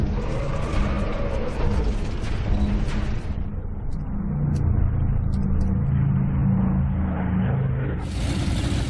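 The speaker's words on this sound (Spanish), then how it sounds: "Los carros alemanes ponen rumbo a Stalingrado." German tanks advancing toward Stalingrad in 1942 produce a loud, continuous low rumble of engines and tracks, with a brighter grinding clatter over the first few seconds and no voices.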